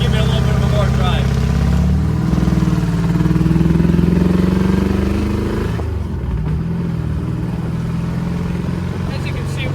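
1966 Ford Fairlane convertible with a loud exhaust rumbling while cruising smoothly, the engine note rising and settling, with someone talking over it.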